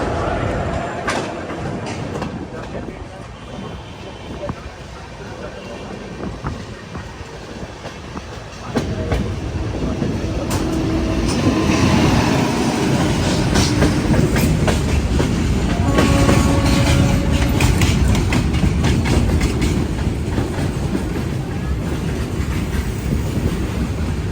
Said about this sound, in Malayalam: ബിലാസ്പൂർ റെയിൽവേ സ്റ്റേഷനെ ലക്ഷ്യമാക്കിക്കൊണ്ട് നമ്മുടെ വണ്ടി ഇതാ പോവുകയാണ്